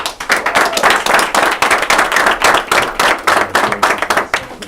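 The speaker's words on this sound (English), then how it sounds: "But we'll applaud Olivia Robson" A small group at a school committee meeting claps steadily and loudly for several seconds, a dense rhythmic patter of hands without cheering.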